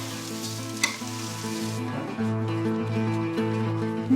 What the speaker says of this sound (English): So stir-frying raw rice, basically, just to get that fragrant